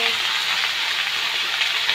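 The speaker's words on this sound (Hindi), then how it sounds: "तो हम कर रहे हैं पम्पकिन को फ्राई" Pumpkin pieces fry in a pan, giving a steady, close hiss and sizzle that stays even throughout.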